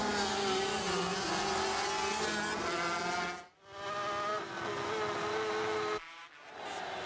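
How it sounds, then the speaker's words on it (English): 500cc Grand Prix racing motorcycles at Le Mans scream past in a loud continuous high-revving whine, the engine notes shifting and overlapping as bikes pass, with brief dips as the sound cuts between passes. "This magnificent 500cc race, and Rossi now is up into third place"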